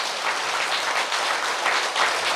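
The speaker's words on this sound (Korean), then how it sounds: "약속한다고 손뼉 쳤거든." A crowd claps together in a temple hall at a Saturday Buddhist dharma service, producing dense, loud, steady applause that continues without a break and with no talking.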